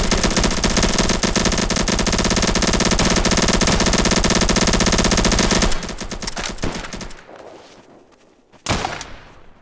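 Sustained machine gun fire roars in a video game battle, a dense, loud rattle of rapid shots for several seconds that cuts off, followed by scattered echoing single gunshots.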